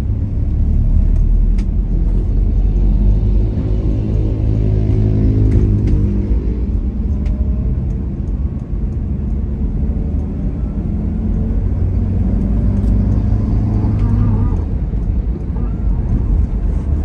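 Heavy road traffic dominated by big logistics trucks on a toll road near Makassar: a continuous loud rumble of large engines and tires, with a passing vehicle swelling and fading.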